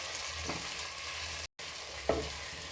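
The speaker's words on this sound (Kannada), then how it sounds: "ಈ ಆಲೂಗಡ್ಡೆನ ಒಂಚೂರು ಅಟ್ಲೀಸ್ಟ್ ಒಂದು 2 ನಿಮಿಷ ಆದರೂ ಈ ಥರ ಆಯಿಲಲ್ಲಿ ಫ್ರೈ ಮಾಡ್ಕೋಬೇಕು" Potatoes, onion and tomato sizzle steadily in hot oil, a continuous broadband hiss with a couple of stirring scrapes, close and fairly loud, with no talking.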